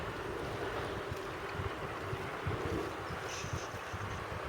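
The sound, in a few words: wind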